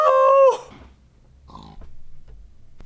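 A dog in the Minecraft video game yelps with a short, loud, high whine as it is killed, followed by faint scuffling and a brief quieter cry.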